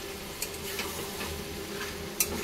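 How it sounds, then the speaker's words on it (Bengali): Gathi kochu taro being stir-fried with prawns, heard as a steady close sizzle with light scraping and a couple of sharp clicks of a utensil against the pan, no talking. "এবার দিয়ে দেবো গাঠি আলু। ভালো করে আবারও কষিয়ে নিতে হবে।"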